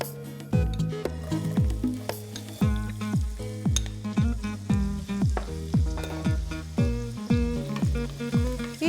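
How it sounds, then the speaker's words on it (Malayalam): Small onions and fenugreek seeds frying in hot oil make a loud, close sizzle, broken by rapid repeated scraping strokes of a spoon stirring the pan, with no voices. "ഈ ചെറിയ ഉള്ളി നല്ലതായിട്ട് ഒന്ന് മൂപ്പിക്കുക"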